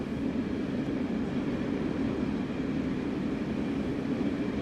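A 12-car EMU electric train runs in Train Sim World 6, giving a steady, loud rumble with continuous low-frequency drone and no distinct breaks throughout.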